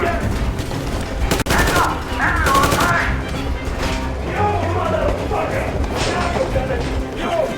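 Gunfire in the video game Metro Exodus, loud bursts of shots and crashes in a dense, noisy mix with a sharp single crack near the start, over voices.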